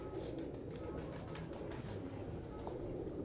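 Old teddy pigeons kept by a pigeon fancier coo in a low, continuous murmur, fairly close and steady throughout, with faint chirps over the top.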